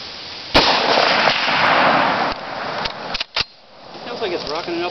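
A single loud gunshot from an L1A1 rifle outdoors, a sharp crack followed by a long rushing roar that echoes away, then a few clicks and someone speaking.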